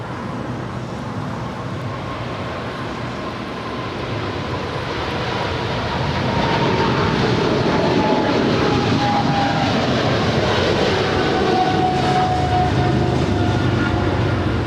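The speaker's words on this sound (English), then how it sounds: "This is American 136 Heavy departing to London Heathrow. It's a 777 300ER." An American Airlines Boeing 777-300ER jet departing Los Angeles International Airport for London Heathrow, a broad roaring engine rumble that swells gradually and holds loud and steady, with no talking.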